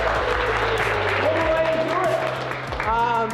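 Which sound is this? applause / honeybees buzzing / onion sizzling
applause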